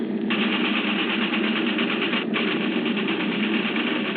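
Aircraft engines drone steadily in flight, a constant buzzing mechanical hum at moderate loudness with a rapid even pulse, heard alone without talk for about four seconds.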